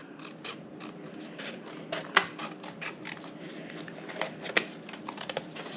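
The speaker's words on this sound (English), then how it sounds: "We're gonna cut up this score line." Scissors snip through paper along the score line of a small handmade gift bag, a quiet run of close, crisp little cuts with a few sharper clicks of the blades.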